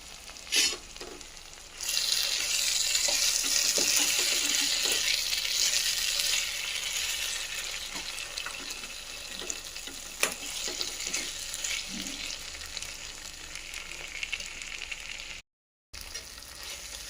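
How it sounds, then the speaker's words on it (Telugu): Curry leaves fry in a pan after ginger-garlic paste for a cabbage tomato curry: a loud, steady crackling sizzle surges as the leaves go in and holds throughout, with occasional spatula scrapes and pops, no talking. "కరివేపాకును కూడా ఒక నిమిషం పాటు వేయించుకోవాలి"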